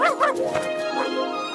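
A cartoon dog from an animated Garfield series lets out a couple of quick, high yipping barks at the start, followed by softer whiny yelps over a steady musical background.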